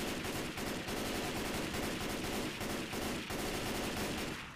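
Rapid automatic rifle fire from an M4 in the Left 4 Dead 2 video game, dense sustained bursts chattering loudly and continuously with no talk over them.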